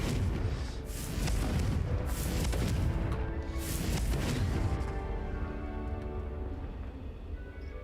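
A Confringo blast spell going off in Hogwarts Legacy: a loud, broad booming burst that swells and rumbles across several seconds before trailing into a dimmer, lingering roar.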